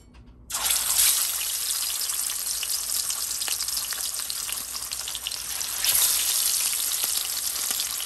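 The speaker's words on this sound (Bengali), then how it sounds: "তো এখন আমি মাছগুলো ছেড়ে দেবো আস্তে আস্তে।" Mrigal fish pieces dropped into hot salted mustard oil burst into a loud, steady sizzle that holds unbroken, swelling briefly partway through as more pieces go in.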